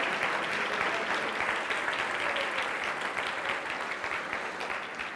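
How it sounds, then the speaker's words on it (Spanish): Congregation applauding during a Spanish-language Sunday church service, a steady wash of many hands clapping that fades slightly toward the end. "Y le da un fuerte aplauso al Señor, aleluya."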